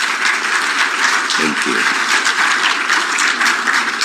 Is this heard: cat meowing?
no